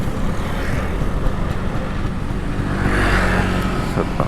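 A Vespa scooter accelerates along a road on a coastal southern route, with a steady engine drone and road rumble that swells slightly partway through, heard close and alone.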